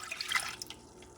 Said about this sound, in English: Cup of water.